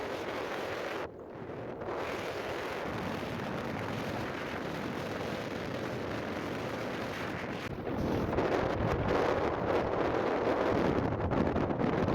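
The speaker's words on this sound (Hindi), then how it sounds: "बहुत प्यारी हवा चल रही है" Steady wind blowing across the shore of a lake in the Tharparkar desert, a continuous broadband rush that buffets the microphone, growing slightly stronger toward the end, with no voices.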